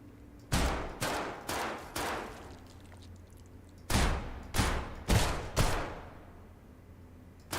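Gunshots in the video game Sniper Killer: about eight loud, close reports in two uneven bursts, each a sharp crack with a short decaying tail, and quiet gaps between them.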